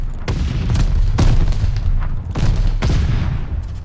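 Call of Duty match audio with a grenade exploding: several sharp, heavy booms with rumbling tails spaced across the stretch amid ongoing gunfire, fairly loud and close, no speech.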